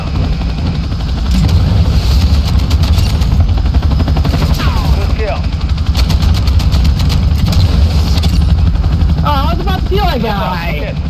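A video-game attack helicopter hovers above a capture point in a multiplayer shooter, its rotor and engine drone loud and steady throughout, mixed with bursts of rapid gunfire and other battle effects.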